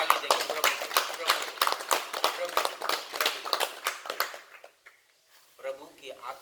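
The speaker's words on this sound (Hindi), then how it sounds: "प्रभु को एक ताली देंगे" A church congregation clapping together in praise of the Lord, a dense run of steady, fairly loud hand claps that fades out after about four seconds, followed by a brief voice.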